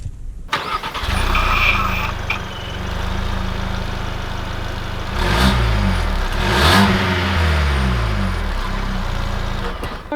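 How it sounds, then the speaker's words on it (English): A 2020 Ford Escape Titanium starts with a brief crank, then its engine settles and revs as the SUV pulls away, a steady mid-pitched engine hum with rising surges of acceleration heard from inside the cabin. "let's take this Escape out to see how it drives."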